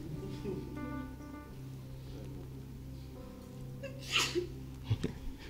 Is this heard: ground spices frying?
no